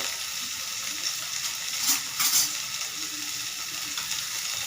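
Chicken frying with tomatoes in a pan gives a steady close sizzle, with a couple of brief louder bursts as the pieces are stirred; no talking.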